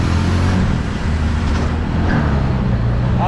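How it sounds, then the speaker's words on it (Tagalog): A loud old Bajaj three-wheeler engine, a rough and continuous low rattling drone running close and steady throughout. "Ang ingay na makina,"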